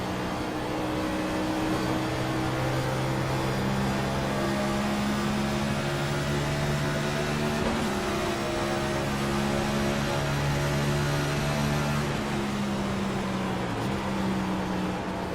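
NASCAR Cup Series race cars drive past at Nashville with a steady, loud engine drone whose overlapping pitches rise and fall as the cars pass. It runs continuously, with no talking.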